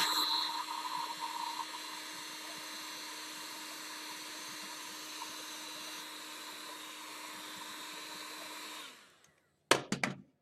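A heat gun blows hot air onto craft foam to texture it for a prop, a loud steady whirring roar that runs unbroken for about nine seconds and then cuts off, followed by a couple of brief clicks.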